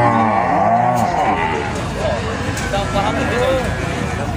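Cows lowing at a cattle market in Buíque, Pernambuco, several drawn-out moos overlapping in the first seconds amid a busy crowd and vendors talking.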